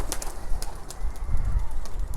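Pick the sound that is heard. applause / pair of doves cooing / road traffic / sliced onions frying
pair of doves cooing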